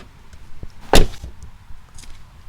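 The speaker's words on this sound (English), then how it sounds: "The back door, I'm going to try and let you hear what it sounds like when it closes." A single sharp, bright thud of a Tesla Model 3's rear door slamming shut, close up, with a short rattle after the impact and quiet surroundings before and after.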